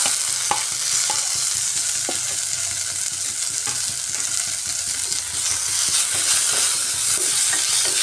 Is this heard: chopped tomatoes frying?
yes